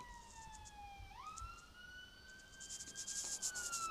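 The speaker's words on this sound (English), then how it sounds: "there is a blue light, there is an ambulance." A siren wails as an ambulance drives past a car during a mock driving test in Tottenham, its two-tone pitch stepping up partway through, moderately loud over steady road noise.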